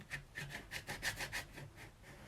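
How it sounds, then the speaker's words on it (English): A plastic scraper drags repeatedly across a Cricut cutting mat, clearing away excess residue in quick, rhythmic scraping strokes, quiet and close with no talking. "get your scraper, scrape off all the excess"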